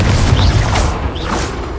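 A Confringo blasting spell explodes in Hogwarts Legacy, a loud, booming, rumbling blast with swishing magical whooshes layered over it, close and sustained for under two seconds.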